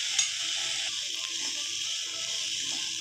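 Onions frying in a pan over a medium flame, a soft continuous sizzle with faint stirring scrapes, close and fairly quiet.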